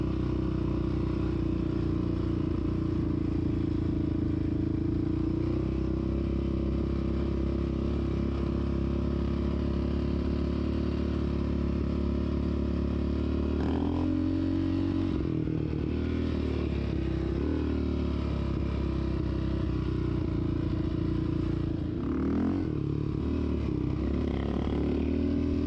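An ATV engine drones steadily while riding through a park toward a bridge, a loud continuous motor hum with rattling clatter and brief revving shifts, no talking over it.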